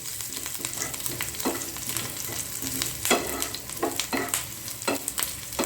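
Crushed and whole garlic fries in oil in a pan, a close crackling sizzle with frequent sharp spatula scrapes and taps against the pan, busy and irregular with no voices.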